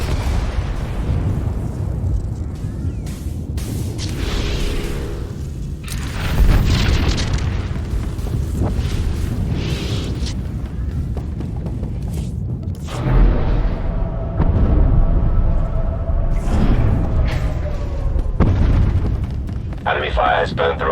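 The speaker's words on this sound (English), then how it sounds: "Enemy fire has burned through our shields" Heavy booming explosions and blasts strike a starship in Star Wars: The Old Republic, recurring under dramatic music and voiced dialogue as enemy fire breaches the shields.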